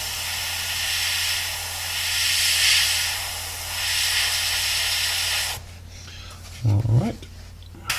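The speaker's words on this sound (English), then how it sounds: "pump out your airbrush, clean it all out, make sure you're happy with how it's coming through" An airbrush sprays paint for freehand camouflage work, giving a steady, close, breathy hiss that runs for about five and a half seconds and then cuts off, followed by a brief low voice-like sound.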